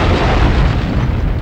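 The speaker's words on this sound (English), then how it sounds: "That's an explosion!" A heavy explosion in the video game No One Lives Forever booms loud and close, a dense rumbling blast that fills the whole moment.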